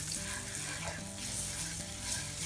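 Flour and oil sizzle steadily in a pan as they cook into a roux, a soft continuous frying hiss with faint stirring, close and fairly quiet, no voices.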